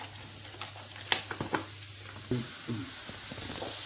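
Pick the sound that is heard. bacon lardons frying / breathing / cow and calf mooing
bacon lardons frying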